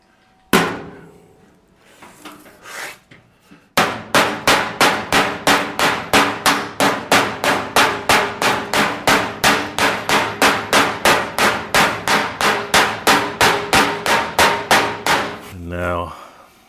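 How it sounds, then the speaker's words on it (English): A hammer strikes the front fender of a 1937 Zephyr held over a dolly in a home garage: a few scattered blows, then a long, fast, evenly spaced run of close, ringing metallic hits. "I'm putting the dolly on this ridge and hammering under it this way."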